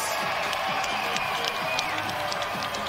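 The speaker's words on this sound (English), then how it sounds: "big round of applause for these two incredible warriors going the distance" Crowd noise inside Desert Diamond Arena after a ten-round women's boxing bout, with steady broad cheering and scattered clapping filling the arena at a constant level, no single voices standing out.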